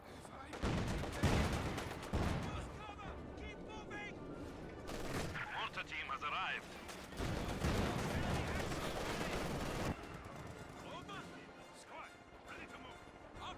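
Anti-tank gun fire in Company of Heroes 2 during a 4v4 tournament match, heavy bursts of gunfire and blasts layered with battle noise, loud and continuous over several seconds, under a commentator's voice.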